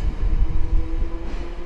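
A 1957-built former Kyoto city tram car running on the Hiroshima street tramway gives a loud, close rumble with rolling low-end vibration and a faint steady whine, continuous throughout.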